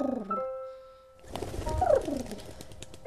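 A pigeon coos in a storybook scene, with soft rolling calls near the mic following a brief tonal chime, then rustling and a few clear throaty coo notes.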